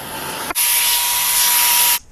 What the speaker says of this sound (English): We're going to do all that with the flame bit in the die grinder.